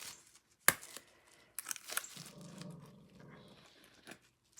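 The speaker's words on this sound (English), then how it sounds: "No barking." A dog at home lets out a short bark-like growl amid sharp clicks and scraping from crafting work on a coaster and tray set, fairly close and moderately loud, with no talk.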